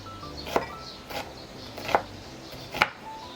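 A knife cutting a white onion into strips on a board, three distinct chopping knocks spaced about a second apart over quiet room tone.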